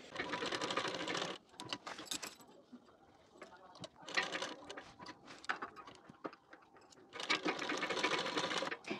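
An electric sewing machine stitches along a folded fabric edge of Patiala pants, running in three loud whirring bursts separated by quieter pauses filled with handling clicks and fabric rustle.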